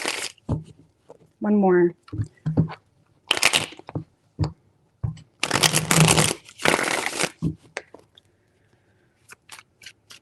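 A tarot card deck is shuffled in several short crisp riffling bursts, close and fairly loud, separated by pauses, with a person speaking between them.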